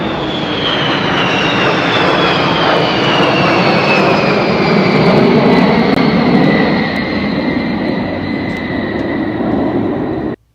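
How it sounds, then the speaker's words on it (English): A fixed-wing aircraft makes a short, close flyover: a loud, steady engine roar with a high whine that slowly drops in pitch, holding for about ten seconds and then cutting off abruptly. "Just that short flyover."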